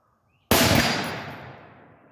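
A single sharp rifle shot fired from a sitting or kneeling position, loud and close, with a sudden crack that rings out and decays over more than a second into silence.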